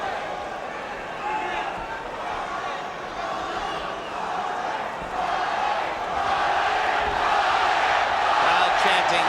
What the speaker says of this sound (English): Crowd chanting, Jorge, Jorge, Jorge.